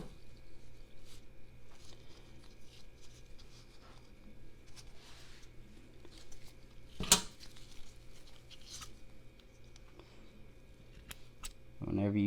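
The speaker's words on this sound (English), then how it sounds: "just cut along that ridge. Starting at the back of the scissors, grabbing just a little sliver and roll it up." Scissors snip through a snake egg shell in a few faint, sparse cuts. One sharp, crisp snip stands out near the middle against a quiet background.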